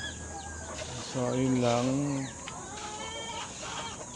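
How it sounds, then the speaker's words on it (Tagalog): Turkeys call and cluck in a loud burst of warbling notes close by while eating, with a person talking before and after. "Ang lakas mo naman kumain ng mga pabo na yan."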